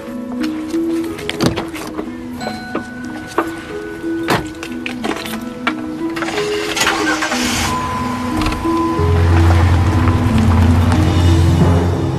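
A car engine cranks and starts in a quiet setting after a few clicks and thumps, then settles into a steady, fairly loud idle.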